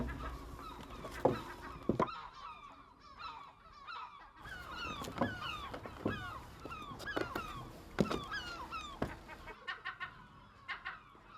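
Seabirds nesting aboard an abandoned, wildlife-overrun war-era ship give loud, repeated honking, goose-like calls, a busy overlapping colony chorus with sharp individual cries rising over a constant background of calling.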